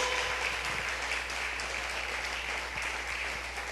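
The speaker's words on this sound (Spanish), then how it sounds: "Dale un aplauso fuerte a Jesús." A church congregation applauds during a sermon. The clapping is dense and continuous, holding at an even level for the full few seconds.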